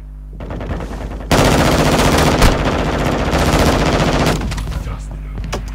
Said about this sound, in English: There's a kid outside that machine gunned my face so hard I got bullet holes